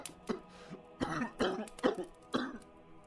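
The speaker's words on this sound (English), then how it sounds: "His father coughed heavily." A string of heavy, harsh coughs, four or five bursts in quick succession, close and fairly quiet.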